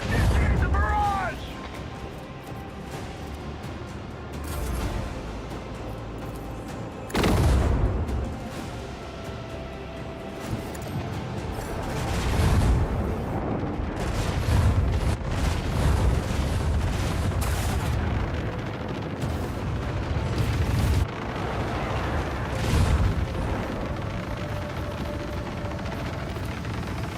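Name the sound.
artillery barrage in video game Warhammer 40000 Rogue Trader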